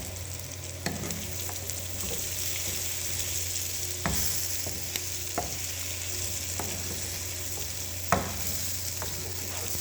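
Tibs, Ethiopian fried meat, sizzles in a pan with a continuous close hiss, while occasional sharp clacks of a utensil stirring against the pan punctuate the frying; no talking.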